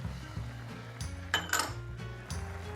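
A spoon scrapes a spoonful of oyster sauce into a pan for mapo tofu, giving a few soft metallic clinks and taps close by over a low kitchen hum, with no talking.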